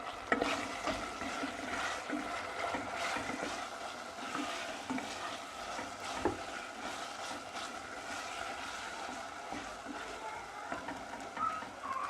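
Onions fry in a pan with a steady sizzle while a utensil stirs and scrapes through them, clattering lightly now and then.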